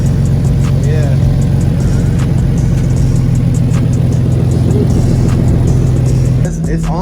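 Infiniti G37 fitted with a single turbo kit idling steadily right after its first startup, a loud, even low engine drone close by that holds for several seconds before briefly dipping near the end.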